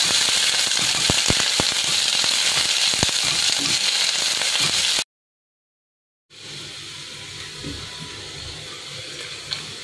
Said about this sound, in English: To this I'm going to add the sliced onions and fry them till they are golden.